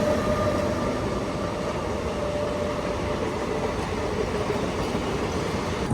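A goods train rushes past at speed on an Indian railway line between Tamil Nadu and Kerala, a loud continuous rumble of wheels and wagons with a steady high whine, sustained throughout and with no one speaking.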